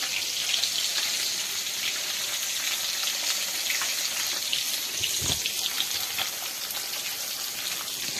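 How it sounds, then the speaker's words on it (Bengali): Fish fries in a pan of hot oil, giving a continuous moderate sizzle with scattered crackles and pops throughout, with no voices. "এখানে দেখো মাছ ভাজা হচ্ছে"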